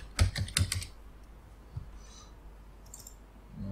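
Computer keyboard typing while searching LMMS presets: a quick burst of several close clicking keystrokes at the start, then a lone tap and a few faint clicks in a quiet room.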